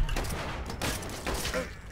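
Dense gunfire from the video game Call of Duty: World at War, a loud continuous barrage of overlapping shots and blasts with no pauses.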